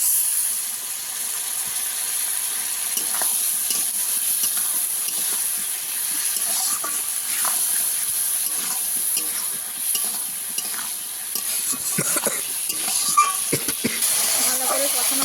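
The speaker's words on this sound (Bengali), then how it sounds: "ভালো করে কষানো হয়ে গেছে আলু" Potatoes are sautéed and stirred in a pan with a little water, producing a soft continuous sizzle and hiss broken by scraping spatula strokes and clinks, close up, with someone talking over it.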